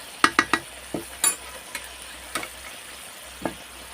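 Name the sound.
stirring turmeric and chili powder into frying spices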